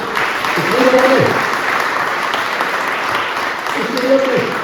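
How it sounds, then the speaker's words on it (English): An audience at an antiques valuation event gives a round of applause for a teddy bear, a soft, steady patter of clapping with brief voices breaking through in the background. "Give the Teddy a round of applause."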